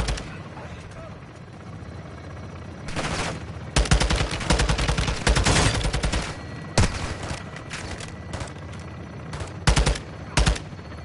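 Loud, repeated bursts of automatic gunfire from a gun run in Call of Duty: Modern Warfare 2 on PS5, heavy rattling volleys with a rumbling aircraft drone underneath and sharp separate shots near the end.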